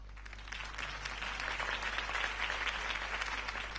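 Sustained applause from a large crowd in a Batman video game fills the space, a dense steady wash of clapping over a low constant hum.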